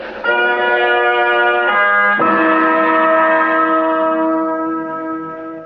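A loud, resonant harmonic tone swells in, then a deeper second strike lands and rings out, sustaining and slowly fading, like a dramatic horror sting.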